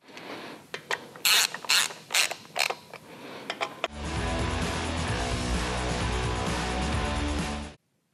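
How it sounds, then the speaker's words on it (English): Bolts are tightened during final assembly of a Harley Dyna stunt motorcycle: a few bursts of close ratcheting clicks, then a steady loud mechanical whir lasting about four seconds before it cuts off. "So I'm going to snug these down, and then we'll start to tighten everything."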